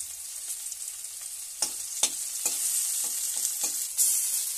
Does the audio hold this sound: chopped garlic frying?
yes